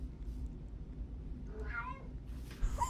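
A cat gives a single short, fairly faint meow partway through, over a low rumbling background.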